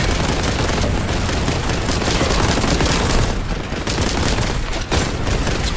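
Dense, continuous gunfire in the game Warhammer 40K Boltgun, a loud rapid fusillade of shots and booms with hardly any pause.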